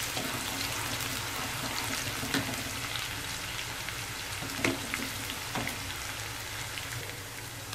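Chopped onions sizzle and crackle steadily in hot oil in a pan while cooking for masoor dal, a close, continuous frying hiss with occasional pops and no talk.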